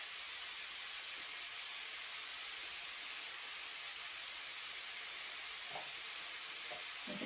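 Food sizzles steadily in a hot pan, a continuous bright hiss with a faint stir or two near the end, close and even throughout with no talking.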